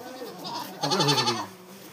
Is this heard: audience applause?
no